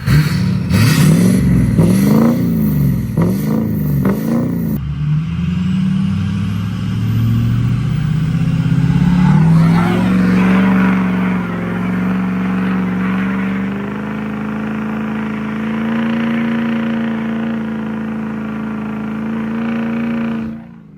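A 6.0 Powerstroke twin-turbo diesel truck with a very loud exhaust revs hard up close, then settles into a deep, droning rumble that holds steady for many seconds before cutting off.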